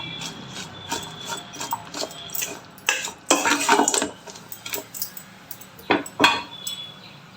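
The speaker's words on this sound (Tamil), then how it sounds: "சுண்டைக்காய் இதில் நல்லா வதக்கிக்கலாம்." Green turkey berries (sundakkai) being sautéed in a pan, with irregular metallic clinks and scrapes of a spatula against the pan over a faint background sizzle, close by and without speech.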